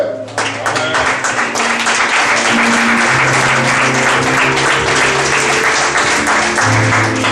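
Church congregation applauding enthusiastically to acclaim the Lord, a dense, loud, sustained clatter of many hands heard close up, with faint voices and tones threaded through.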